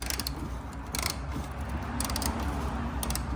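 A ratchet wrench clicks in short quick bursts while loosening a 10 mm bolt during bumper removal on an Infiniti Q50, the close, faint ratcheting separated by brief pauses.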